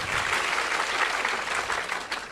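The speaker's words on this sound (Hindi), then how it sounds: "सवाल के लिए तालियां बजाइए।" An audience at a spiritual talk breaks into steady applause, a dense, even patter of many hands clapping throughout, moderately loud and without voices.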